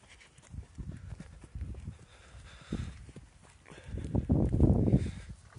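Horses walking on a farm, hooves clip-clopping in an irregular, unhurried rhythm close by, with soft scuffs and shuffling that grow louder toward the end.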